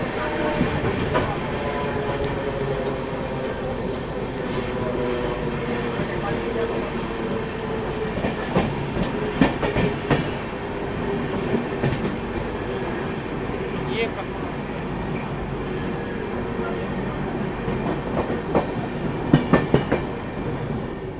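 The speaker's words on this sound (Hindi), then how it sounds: "अवध एक्सप्रेस तो निकल चुकी है" A train passes on Indian rails near Govindpuri, coaches rumbling and clattering steadily with wheel squeal and rhythmic clicks over the joints, the noise building in clustered bursts toward the end. Voices speak over the rolling noise.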